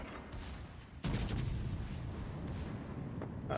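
Warship secondary guns firing in the World of Warships Legends video game, a rumbling barrage of booming shots with sharp onsets, a loud volley at one second and more bursts after, with no talk.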